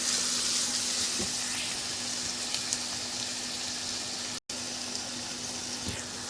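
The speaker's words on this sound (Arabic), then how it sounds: "واحط كمان رشه كده من السكر على البصل بتاعي، واديهم بقى تشويحتين كده وبس." Onions sprinkled with sugar sauté in a pan, giving a soft, steady sizzling hiss at moderate distance with faint scrapes of tossing, briefly cut by a short silent gap.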